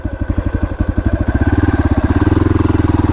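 A dirt bike is ridden onto a bridge in Chitwan, Nepal. The engine thumps in a loud, close, steady rhythm that quickens and grows fuller as the rider moves forward.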